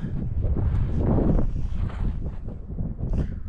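Strong wind in the remote Gansu Gobi desert roars as steady, rough gusts buffeting the microphone, loud and close with no voices.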